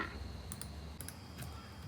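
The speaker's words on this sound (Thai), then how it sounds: "เปลี่ยนฟอนต์เราจะคลิกไปที่มุมนี้นะคะ" Computer mouse clicking while changing fonts in design software for a wedding card layout: a few soft, quick clicks in close pairs, faint over a dull background hum.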